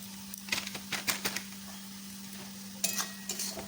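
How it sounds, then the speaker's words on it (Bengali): Chopped vegetables with salt and Kashmiri chilli powder being stirred in a pan for an egg lollipop filling, giving a few sharp scraping clicks over a steady low hum, with quiet gaps between strokes. "খুব ভালো করে নেড়ে চেড়ে নেব"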